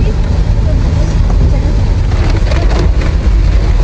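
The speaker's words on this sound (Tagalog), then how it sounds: "Grabe na lakas ng ulan, oh." Heavy rain pounds a vehicle on the road in a dense, unbroken roar, over a deep, constant rumble from inside the cabin.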